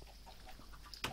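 Chickens in Minecraft give faint clucks against a low background hum, followed by a brief sharper sound at the end.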